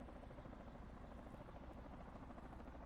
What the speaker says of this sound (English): I hear another helicopter too.